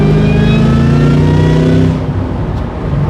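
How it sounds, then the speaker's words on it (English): A supercharged 2003 Ford Mustang Cobra Terminator accelerating hard, its engine note climbing with a steady rising whine layered over the roar, loud and close, easing off slightly near the end. "I can listen to the supercharger eat and whine all day"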